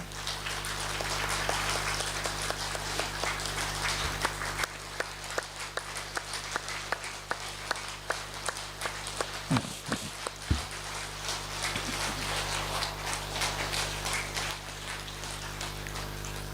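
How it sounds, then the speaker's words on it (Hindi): A large gathering claps along in a spiritual assembly, a steady dense patter of many hands sustained for the whole stretch, fairly close and even in level, with a few sharper claps standing out near the middle. "थोड़ी सी 2 मिनट के लिए तालियां बजाएंगे जरा"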